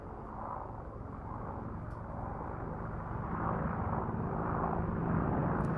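Gunship 1, a military aircraft, flies a 270-degree wing-over at a VE Day air show, a steady engine drone heard from a distance that slowly builds louder.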